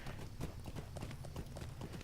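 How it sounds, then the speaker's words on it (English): Horse hooves clip-clop steadily in a fantasy video game, a continuous close rhythmic trot of hoofbeats with no talk. "First, back on my horse"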